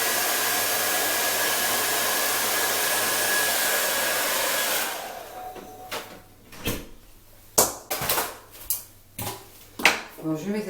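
A hair dryer blows steadily on hair as a loud continuous whoosh for about five seconds, then cuts off, leaving quieter clattering and handling noises.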